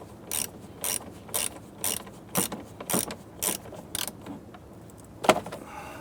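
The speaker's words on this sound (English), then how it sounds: "Now when tightening this down, once that screw bottom's out, just give it roughly about a quarter turn, maybe a little bit less." A screw is tightened on the headlight knob of a 1994-2004 Ford Mustang, producing about ten evenly spaced mechanical clicks, like a ratchet, close and moderately loud, with one sharper click near the end.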